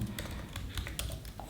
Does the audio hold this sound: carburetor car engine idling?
no